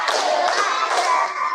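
A class of schoolchildren claps a short rhythmic pattern on cue, a steady stream of close hand claps and thumps for about a second and a half, with faint voices beneath.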